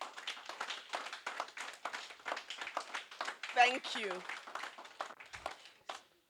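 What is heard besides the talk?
audience applause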